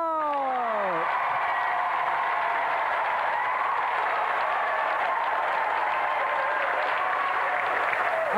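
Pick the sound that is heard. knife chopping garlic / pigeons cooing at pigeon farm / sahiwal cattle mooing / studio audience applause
studio audience applause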